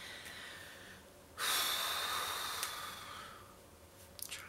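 One long, breathy yawn lasts about two seconds, close and soft, rising suddenly and then tapering off, followed by faint small rustles in a quiet room.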